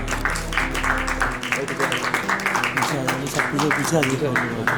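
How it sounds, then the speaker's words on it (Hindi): Clapping from the audience at a series launch event as a guest is called on stage, moderate applause mixed with overlapping voices and background music, a low hum cutting off early. "please join us on stage with a round of applause"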